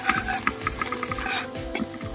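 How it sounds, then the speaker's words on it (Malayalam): Shallots and green chilies fry in a pan for a Kerala fish curry as a spoon stirs them, producing repeated scraping clatters over a steady sizzle, close and fairly loud, with no talking. "അതുപോലെ നമുക്ക് നല്ല രീതിയിൽ ഒന്ന് ഇളക്കിയെടുക്കാം."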